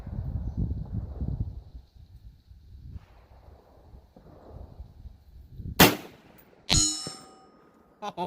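A 7.62x39 rifle fires at a long-range target, giving a sharp loud crack followed about a second later by a second distinct report, with wind noise and quiet movement beforehand.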